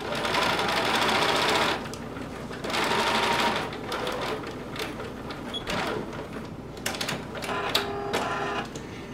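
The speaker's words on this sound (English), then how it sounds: "lift your presser foot and sew across the bottom" A sewing machine stitches fabric for a top with leather in bursts of rapid mechanical whirring, near and clear, with short pauses and light clicks between runs.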